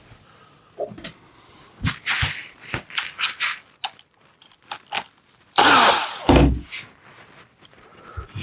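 A power drill drives screws in short, uneven bursts of whirring mixed with knocks and handling clatter, ending in one louder, longer run of the motor.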